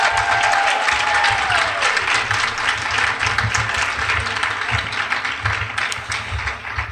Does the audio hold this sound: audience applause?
yes